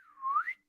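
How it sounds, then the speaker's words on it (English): A slide whistle sound effect: one clean, solitary tone that dips slightly, then swoops upward in a quick zoom. It lasts under a second against silence. "when the slide whistle zoom in happened"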